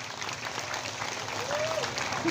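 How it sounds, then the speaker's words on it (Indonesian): Audience applause at a religious gathering in a village in Indramayu, a dense, steady clatter of clapping from a crowd that swells slightly near the end. "Tepuk tangan dulu dong."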